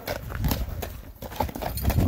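Hooves of a large, tall horse clip-clop at a steady walking rhythm close by, over a low background rumble, with no voices. The horse, named Ocean, is about 1.70 m tall and for sale in Nookat.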